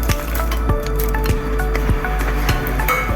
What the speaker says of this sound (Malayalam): ഇനി സ്റ്റൗ ഓഫ് ചെയ്ത് നമുക്ക് അണ്ടിപ്പരിപ്പ് മുന്തിരി ചേർക്കാം